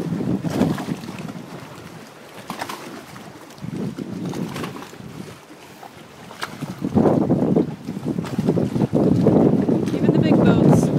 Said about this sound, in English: There's the boats in the water, bouncing, pulling on the lines